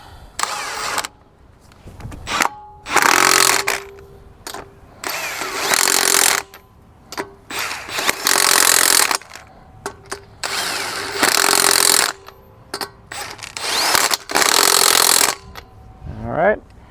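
An impact wrench tightens the wheel bolts on a Hyundai Palisade, firing about half a dozen loud, rattling bursts of a second or two each, separated by short pauses.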